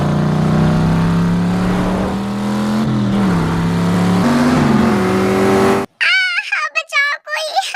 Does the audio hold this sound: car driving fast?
yes